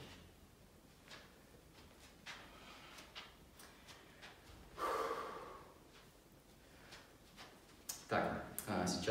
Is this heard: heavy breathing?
yes